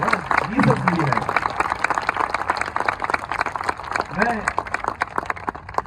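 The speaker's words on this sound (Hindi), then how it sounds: "क्या हम सब प्रभु के लिए खूबसूरत ताली बजा सकते हैं मिलकर?" Congregation at a Christian revival gathering in Hazaribag clapping together, a dense stream of rhythmic hand claps filling the room, with voices calling out over it a couple of times.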